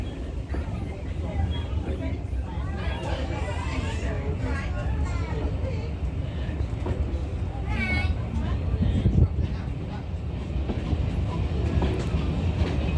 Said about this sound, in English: 7828 Odney Manor on the West Somerset Railway.